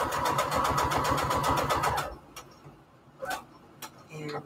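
A sewing machine stitching fabric onto index cards runs in a fast, even rhythm of close mechanical ticks for about two seconds and then stops, followed by a few scattered clicks and handling sounds.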